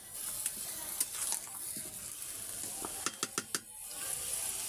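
Fish head curry with bottle gourd and five-spice sizzles in a pan, a low steady fry broken by scattered spoon scrapes and a quick run of sharp metallic clinks near the end.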